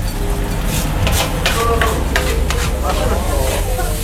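Nasi goreng mawut stir-fried in a wok at a long-running street food stall, a loud continuous sizzle with scraping stirs and metallic clinks over a steady hiss, with faint crowd babble behind.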